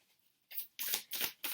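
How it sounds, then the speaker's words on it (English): Tarot cards being shuffled by hand come through as four quick riffling bursts after a short quiet start, close and soft, with no talking. "I'm just going to start by shuffling."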